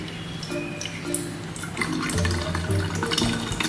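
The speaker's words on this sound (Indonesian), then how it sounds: "Tuangkan air di kran." Water poured from a tap into a small gadget's water tank, a close trickling and dripping flow that grows fuller and more gurgling as the tank fills.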